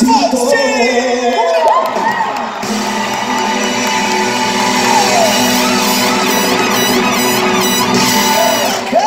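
A large audience at the La Musa Awards 2019 cheers, whoops and applauds loudly and steadily, a dense roar of voices sustained for the whole stretch.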